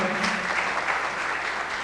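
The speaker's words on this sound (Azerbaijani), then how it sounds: "Çox sağ olun, minnətdaram alqışlarınızla." An award ceremony audience, at a business awards event in 2012, claps in a steady, even patter of applause, moderately distant and alone with no voices over it.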